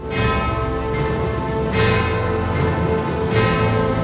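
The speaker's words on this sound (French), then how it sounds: "on peut entendre quelques coups de percussion qui donnent un son proche des cloches d'église." Resonant percussion strikes ring out like church bells, four or five heavy hits with long sustained tones layered over a continuous musical drone.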